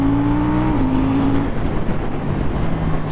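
A KTM 790 Duke motorcycle engine pulls hard after a two-gear downshift. The loud, close drone climbs in pitch with no talk over it.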